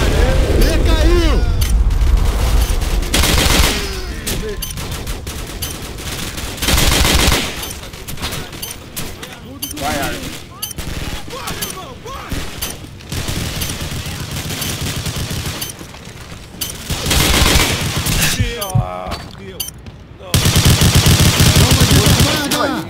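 Loud bursts of automatic gunfire and booming shots in Call of Duty, set in Rio's Turano favela, come in repeated volleys with excited players talking over the action.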